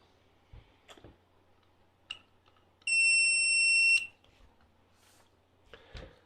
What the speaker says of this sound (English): when we switch to booster mode, we can also check the conduction by the noise of booster.